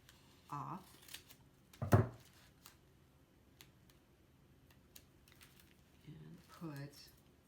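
A few crisp scissor snips cut through paper, one sharper cut in the middle, with soft handling noise between them.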